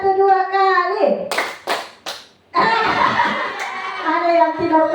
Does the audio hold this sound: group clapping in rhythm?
yes